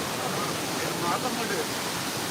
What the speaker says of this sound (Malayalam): കുഴപ്പമില്ല ചെറിയൊരു വെള്ളച്ചാട്ടം കേട്ടോ